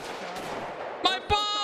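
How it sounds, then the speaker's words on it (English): Inside a GTA 5 bar, a couple of sharp gunshots ring out in quick succession, followed by a bright glassy ringing as bar glasses are shot out, with faint game background noise. "Let's shoot these glasses out."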